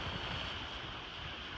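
Six-to-ten-foot Atlantic waves rush around a sailboat surfing downwind at near nine knots, a loud, continuous wash of water blended with strong wind noise and no talking.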